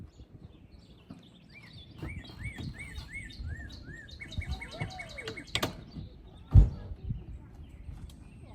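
Several birds chirp and tweet in short, repeated calls outdoors, with a few louder nearby notes and a sharp thump near the end.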